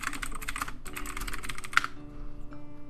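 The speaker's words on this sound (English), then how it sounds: "Just gonna type wow in the chat, because that is a wow." Rapid typing on a computer keyboard during an online game, a close flurry of clicking keystrokes that pauses briefly, then resumes before tapering off.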